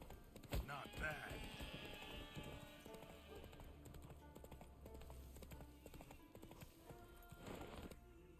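A horse galloping in the video game The Witcher 3, with rhythmic hoofbeats running steadily under game ambience and a sharp knock near the start; a voice speaks over it part of the time.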